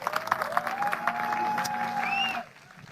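Audience applause for storyteller Vikram Sridhar at a storytelling performance in Udaipur: sustained, dense clapping under a steady tonal line that cuts off abruptly near the end, leaving quiet room tone.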